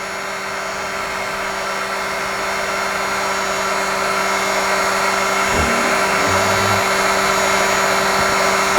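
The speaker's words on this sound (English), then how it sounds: "Keep the heat gun right there." A heat gun blows on a metal tube during tube bending practice, a constant loud motorized whir with steady hum and airflow, a brief thump midway, and no voices.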